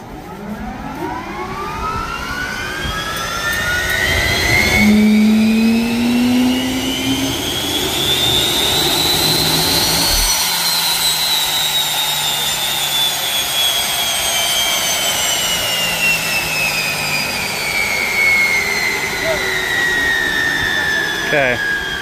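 A wheel-driven land-speed streamliner's engine fires up and keeps running, a loud rising whine with a sweeping pitch that climbs, holds and then eases down over a steady roar, close by.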